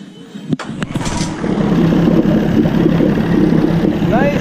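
An Evinrude 20/25 horsepower outboard motor, modified to 25 horsepower, cranks with a short pull and catches, then settles into a loud, steady close running drone.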